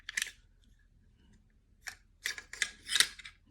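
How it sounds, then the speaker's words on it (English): Metallic clicks and sliding scrapes come from pulling the charging handle and bolt out of an AR15 rifle, one sharp click at the start then a cluster of close clacks after a pause. "When you pull that out, this bolt right here is gonna come out"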